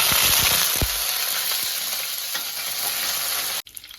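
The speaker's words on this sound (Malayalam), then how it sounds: "പാൻ വെച്ചിട്ട് ആവശ്യത്തിന് എണ്ണ ഒഴിക്കുന്നുണ്ട്. കടുക് ഇടുന്നുണ്ട്." Mustard seeds spluttering in hot oil in a pan, a loud dense close crackle with several sharp pops at the start, continuing steadily before cutting off abruptly near the end.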